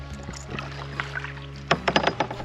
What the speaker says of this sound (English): Paddling along the gorge